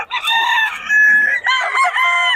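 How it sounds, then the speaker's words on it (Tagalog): Roosters of a Golden Boy bloodline crow loudly and close in long drawn calls with some clucking, heard at a market with no talk over them. "Mga solid mga manok nito, Boss Jun."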